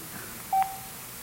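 A phone sounds during a panel discussion, one short clear electronic tone pulse standing out over a quiet room.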